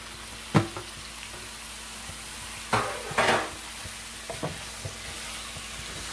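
Spice-rubbed duck pieces hiss in a hot pan under a steady low sizzle, with a few sharp clatters and scrapes of a utensil against the pan and no voices.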